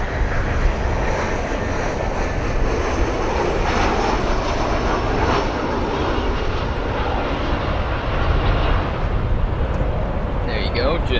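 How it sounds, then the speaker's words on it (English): A Frontier Airlines jet arriving at Chicago O'Hare from Orlando passes close by, a loud, broad, steady roar that holds strong throughout with a slight swell near the end. "That flight, Frontier Airlines Flight 944, arriving from Orlando International Airport in Central Florida."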